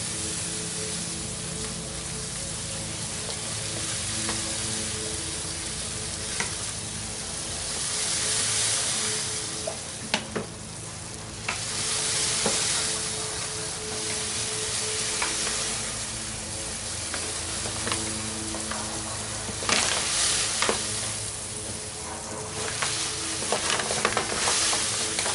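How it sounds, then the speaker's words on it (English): All-grain beer mash is stirred in a circular motion inside a rectangular cooler, a continuous wet swishing and sloshing with occasional knocks, steady throughout and unaccompanied by voices. "I'm going to start stirring. Just do a circular motion, usually works pretty well for the rectangular cooler."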